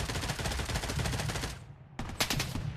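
Rapid automatic gunfire in Project: BloodStrike, loud and close, rattling in dense bursts, breaking off briefly, then resuming with sharp individual shots.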